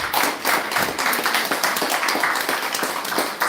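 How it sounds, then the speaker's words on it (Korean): A church congregation claps together during a Sunday morning service, a steady, dense patter of many hands filling the room with no pause. "지금 우리 박수를 한번 해주셔야 돼요."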